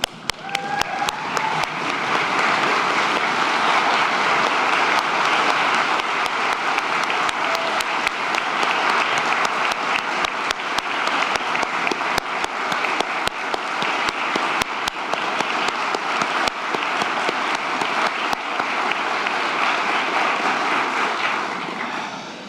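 Graduation ceremony audience at a business school gives faculty and administrators a sustained round of applause, dense steady clapping from a large crowd filling the hall for about twenty seconds before tapering off.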